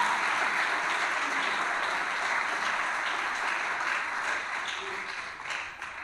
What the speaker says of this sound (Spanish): Vamos a darle palmas más fuertes